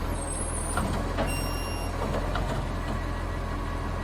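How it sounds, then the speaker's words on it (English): An Australian garbage truck idles with a steady engine drone and a high whine. Brief hissing air brake bursts and faint beeps cut through a constant low rumble, and no one speaks. "That kind of whine you hear in conjunction with that, you know, engine sound. And, of course, the brakes."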